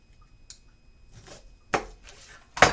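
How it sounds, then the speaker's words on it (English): A knife slices small Brussels sprouts in half on a cutting board, giving a few sharp, close cuts spaced apart, with the last two louder and crisper. "because they're so small, I'm just going to cut them in"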